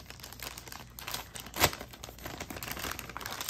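Packaging for a Lenovo Chromebook Duet 3 is opened, giving soft crinkling and tearing of wrapping close by and quiet, with one sharper rip partway through.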